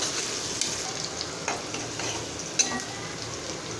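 Hot oil tempering poured into cooked lentils (dal) crackles and sizzles in a dense, close hiss, with a few sharp pops and stirring scrapes, no voices.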